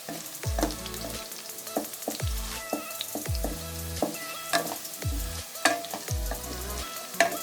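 Mixed vegetables and potatoes fry in a pan, a continuous soft sizzle broken by regular stirring strokes, each giving a sharp scrape and brief clatter roughly every second.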